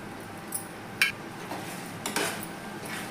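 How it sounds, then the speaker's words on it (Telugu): A spoon scrapes and clinks against a pan while semiya kesari with cardamom is stirred, giving a few faint, sparse metallic taps over a quiet background. "ఇలాచీ వేసుకొని బాగా కలుపుకుందాం"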